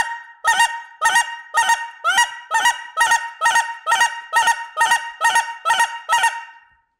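Goose call for lesser geese blown in a fast double cluck, a steady run of about a dozen sharp, loud honking clucks in even rhythm, close and alone with no voices.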